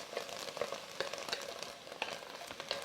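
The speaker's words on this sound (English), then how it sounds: "Sauteing just means stirring frequently or continuously while on high heat." Food sautés in a pan over high heat for an enchilada casserole, a steady close sizzle broken by frequent stirring scrapes and taps, with no voices.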